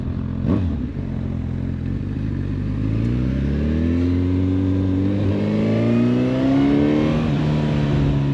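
Honda CB 1000 Hornet SP motorcycle engine revving hard through its rev range, a loud, continuous close-up roar with pitch climbing steadily and dipping briefly between gear changes, no voices.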